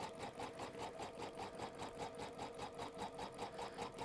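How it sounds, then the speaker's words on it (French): A home embroidery machine stitches the body outline of a sewn toy rabbit in white thread, its needle hammering out a steady, fast rhythmic clatter close up, with no talking. "la machine va me faire le contour du corps de notre lapin"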